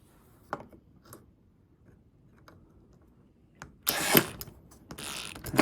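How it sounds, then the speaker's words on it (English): Flat-blade screwdriver turning slot-head screws on a toy tractor, heard as a few sparse faint clicks followed by a louder burst of scraping, ratcheting metal contact near the end. "That's the hard thing about slot head screws, is keeping the screwdriver in the slot."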